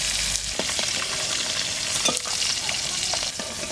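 Koi fish frying in oil in a pan with stirring, a continuous loud sizzle broken by scraping and stirring clicks.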